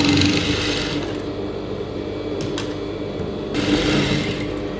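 A sewing machine stitches blouse fabric in two short loud whirring bursts, one at the start and one near the end, separated by a quieter stretch of low hum and a couple of faint clicks.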